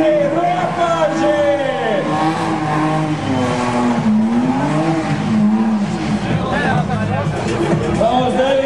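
A BMW 324 drift car on a competition track, engine revving high and wailing with continuous tire squeal, loud and sustained, under an announcer's voice and crowd babble.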